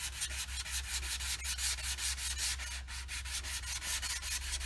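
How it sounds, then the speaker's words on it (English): Sanding a craft project by hand: steady, close rasping strokes in a quick even rhythm, continuous and fairly quiet over a low background hum, with no voices. "I'm going to sand this the whole way."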